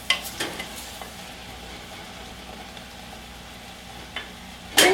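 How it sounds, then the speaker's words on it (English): A spoon scrapes browned mushroom bits from the bottom of a pot while deglazing for a vegan mushroom gravy. Brief scrapes come at the start and a loud one at the end, with a soft sizzle between and no speech. "So take your spoon and just scrape the bottom a little bit."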